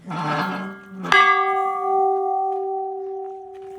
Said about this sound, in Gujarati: તો આ છે ને આ મોટો આ ઘંટ છે ને